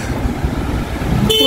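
A car horn honks once near the end, a short sharp toot cutting through rumbling road traffic noise heard from inside a moving vehicle.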